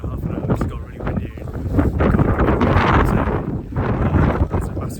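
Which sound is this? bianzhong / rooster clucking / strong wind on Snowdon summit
strong wind on Snowdon summit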